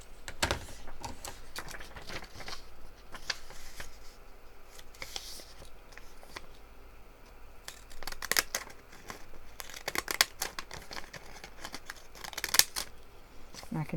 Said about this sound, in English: I'll use my scissors.